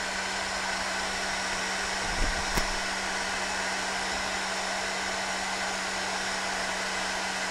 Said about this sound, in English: I'm then gonna get my heat gun in position, turn it on, and that way I can just let it sit here